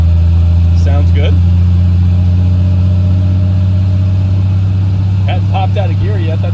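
A 1973 Triumph TR6 with a new exhaust drives on a road test in third gear, its loud, steady engine drone close and constant while people talk briefly over it.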